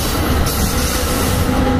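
A train passes close by at Metropark station, a loud, steady roar of wheels on rail with a faint metallic squeal, filling the moment without pause.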